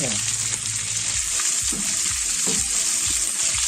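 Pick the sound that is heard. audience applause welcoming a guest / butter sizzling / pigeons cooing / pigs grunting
butter sizzling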